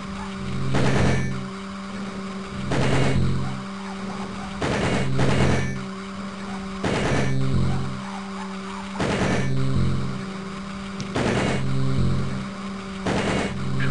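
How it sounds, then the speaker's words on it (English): Machine gun fire striking a metal-skinned enemy in the game DEUS, heard as repeated loud bursts of clanking impacts about every two seconds over a steady droning background, with no talking. "You can actually hear our machine gun hitting his metal skin."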